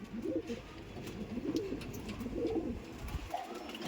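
Madrasi pigeons coo indoors in a room, soft rolling calls repeating in bursts about once a second, close and moderately loud over a low background hum, with no talking.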